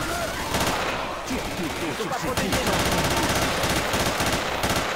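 Rapid automatic gunfire from Left 4 Dead 2 rattles in loud, continuous bursts, with sharper single shots mixed in and voices faintly underneath.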